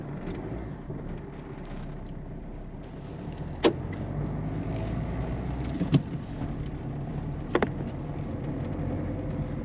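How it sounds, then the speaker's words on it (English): Peugeot 207 driving on the road with a steady engine and road hum, broken by a few sharp, brief suspension clunks spaced several seconds apart. "I'll take it for a drive and let you hear the clunks"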